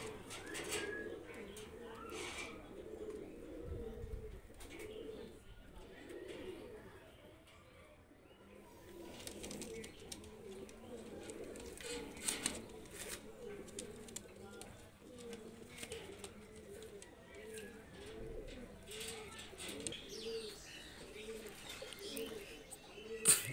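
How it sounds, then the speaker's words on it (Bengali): Two pure-bloodline Jonsera Teddy pigeons cooing repeatedly in soft, rolling throaty calls at close range, a steady rhythmic series of coos with occasional faint chirps and light rustling, fairly quiet overall. "দুইটা কবুতর নিয়ে আসলাম, দেখেন পিওর ব্লাড লাইনের জনসেরা টেডি কবুতর"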